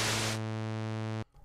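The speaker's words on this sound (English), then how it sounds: "you have your white noise." White noise test signal from Trooper lighting software hisses loud and broadband at first, then turns into a steady harmonic buzz that stops abruptly, leaving near silence.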